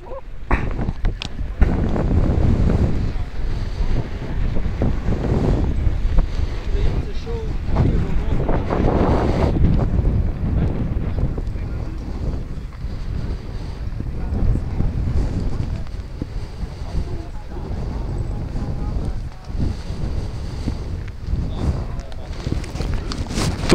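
Strong gust of wind buffets the microphone at an outdoor F5J electric glider model aircraft contest in Dupnitsa, Bulgaria, a loud sustained rushing roar with rumbling surges throughout, a voice faintly present beneath.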